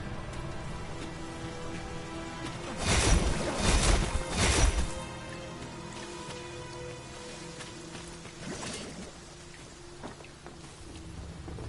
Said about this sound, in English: The rain ought to abate soon enough.